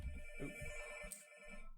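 A telephone rings with a steady electronic ringtone that is faint and slightly muffled, as if heard indoors from across the room, under a low background hum. No one speaks.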